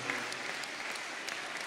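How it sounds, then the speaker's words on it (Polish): Children and young people applaud at a Lenten retreat in Gruczno, a soft, steady, fairly distant patter of many hands that lasts under two seconds with no voices. "brawa, brawa dla was za grzeczność"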